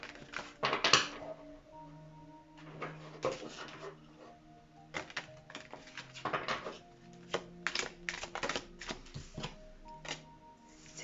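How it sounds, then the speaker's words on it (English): Tarot cards being shuffled by hand during a reading, a series of quick papery riffles and taps in irregular bursts, close and fairly quiet, with brief gaps between them. "This one needs to be shuffled a little."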